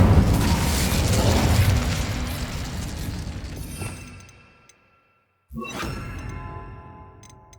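A loud fiery blast from the Incendio fire spell in Hogwarts Legacy opens with a roaring, crackling burst that slowly fades into near silence, then a second sharp whoosh of flame flares up again.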